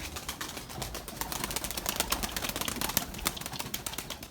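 Erzurum white pigeons and their young stir nearby, faint scattered clicks and wing flaps with soft cooing in a quiet loft, no voices.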